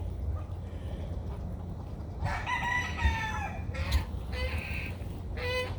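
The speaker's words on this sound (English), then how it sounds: "He's a rooster, and he's a rooster." A rooster crows a few times over a quiet farmyard with turkeys, the calls moderately distant and fairly faint above a low rumble, with no talk.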